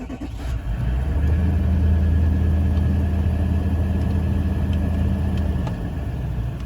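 Toyota Sahara engine idling steadily after starting, a continuous close low rumble with a smooth even drone and no talk.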